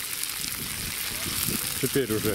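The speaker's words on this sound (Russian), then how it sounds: "будем жарить мясо до полуготовности." Meat sizzles and crackles in hot sunflower oil in a cauldron over a campfire while someone talks over it in Russian.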